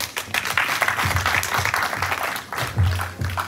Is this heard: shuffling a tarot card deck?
no